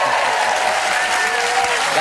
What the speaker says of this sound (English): Don't clap too loud.